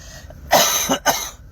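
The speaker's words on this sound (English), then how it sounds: "This cough is still hanging on." A person coughs a few times in quick succession, close and sharp, then falls quiet.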